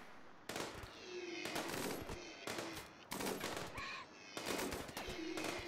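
Gunfire from the colony-building video game RimWorld as gazelles are shot; repeated bursts of rapid crackling shots in quick clusters separated by short pauses, with faint chirping in between.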